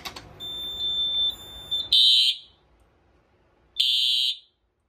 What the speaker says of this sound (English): now we'll go ahead and do a full alarm